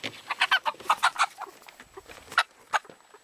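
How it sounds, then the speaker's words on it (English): A bantam chicken on a farm gives a quick series of close, sharp clucks, bunched in the first half and then trailing off into scattered single calls. "Is that a hen? It sounds like a hen, but it looks like a rooster."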